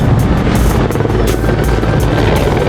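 A helicopter in the New Zealand mountains during a tahr hunt, its rotor chopping loudly and steadily close by, with no talk over it.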